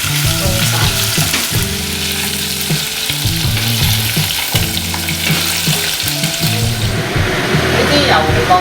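Pork ribs deep-fry in hot oil for sweet and sour pork, giving a loud, continuous crisp sizzle and crackle, with a voice talking over it.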